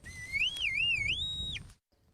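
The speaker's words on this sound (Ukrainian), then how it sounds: "Крок за кроком сапер йде з металошукачем. Дотримуємося безпечної відстані, перевіряємо наявність сигналів. Іноді пристрій не стихає" A handheld metal detector used by a deminer sweeping ground littered with shell fragments gives a loud, continuous warbling electronic tone that wavers up and down for under two seconds and then cuts off.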